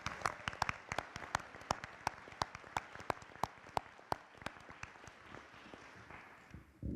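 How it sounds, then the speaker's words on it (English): Applause for Mr. Dan Davis at the close of a school board meeting: a small group clapping at a steady, fairly quick pace, crisp individual claps close up, fading toward the end. "could we just get a round of applause for Mr. Dan Davis?"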